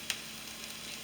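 Meat for a homemade steak and cheese sizzles in a pan, a steady, faint crackling hiss. A single sharp click sounds near the start.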